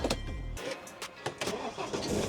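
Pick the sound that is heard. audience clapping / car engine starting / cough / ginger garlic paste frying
car engine starting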